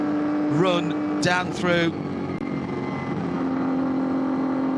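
Porsche race car running flat out at the Nürburgring during 24-hour qualifying, a steady high engine drone with gear-change pitch sweeps, heard under a commentator's voice.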